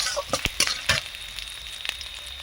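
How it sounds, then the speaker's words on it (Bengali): Whole cumin seeds fry in oil for a Bengali masoor dal with curry leaves. A light sizzle comes with several sharp pops and crackles, busiest at first and then settling into a quieter fizz. "গোটা জিরে, ভালোভাবে এবারে ভেজে নেব সব কিছুর সঙ্গে"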